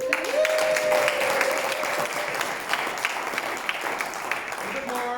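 An audience at an LGBTQ+ economic summit applauding a speaker, a dense, sustained clapping that fills the room and tapers slightly toward the end, with a faint voice briefly under it.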